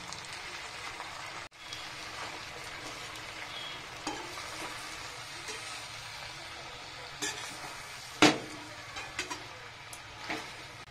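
Spinach fries with salt, turmeric and spices in a pan for a prawn and spinach dish, a soft, faint continuous sizzle with scattered light crackles and one sharp clatter near the end.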